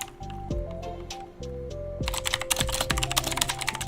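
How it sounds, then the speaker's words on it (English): Loud clattering keystrokes on a computer keyboard, quick irregular taps in bursts with short pauses, close and prominent throughout. "Can you guys hear that typing? It's so loud."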